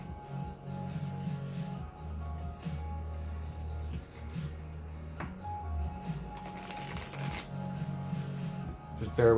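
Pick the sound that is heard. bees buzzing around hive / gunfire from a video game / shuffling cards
shuffling cards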